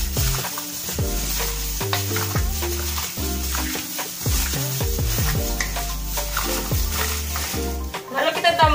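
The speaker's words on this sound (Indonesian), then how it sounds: "Diaduk menggunakan tangan." Food being stirred by hand in a pan, with soft scraping and sizzling running steadily under louder background music.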